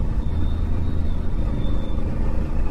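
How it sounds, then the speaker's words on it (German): A motorcycle engine runs steadily on a winding road in the Harz, a continuous low rumble with wind and road noise, no talk over it. "jetzt höre ich deinen Motor ein bisschen"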